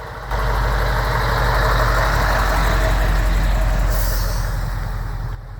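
A classic Scania V8 420 T truck's big eight-cylinder engine idles close by with a steady, deep rumble, and a hiss of air joins near the end.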